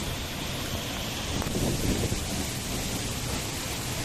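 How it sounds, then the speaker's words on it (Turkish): A large waterfall, the longest in Turkey at Gümüşkanat in Mutki, Bitlis, thunders into its huge plunge pool, a dense, loud, continuous roar that fills the clip without pause. "şelalenin küçük bir kısmını ve oluşturduğu dev kazanını görüyoruz"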